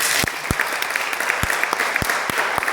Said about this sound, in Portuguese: dê um aplauso a Jesus agora